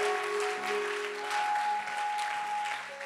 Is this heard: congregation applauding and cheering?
yes